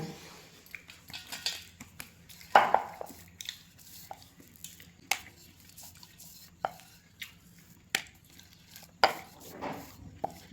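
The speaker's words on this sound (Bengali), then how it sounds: "এবার আমি লেচিগুলো কেটে নেব।" Dough for luchi being cut into portions on a kitchen surface, a series of soft, irregular cutting taps and knocks spread across several seconds, quiet and close.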